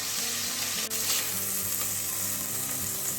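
Beef pieces frying and browning in a pot for beef bourguignon, a steady close sizzle with faint stirring, continuous throughout.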